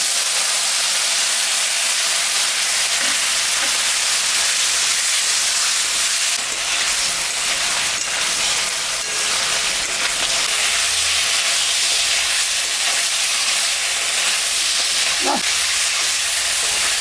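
Ginger, cumin and a little mustard fry in a pan for a fish curry, giving a steady, close sizzle and hiss that continues throughout with no talk.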